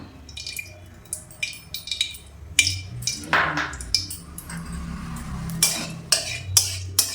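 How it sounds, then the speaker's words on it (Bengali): A kadai with hot fish-frying oil is stirred on a gas stove, sharp scraping and clinking strikes of a utensil against metal in an irregular rhythm, close and with no speech. "কড়াটা একটু নেড়ে দিলাম"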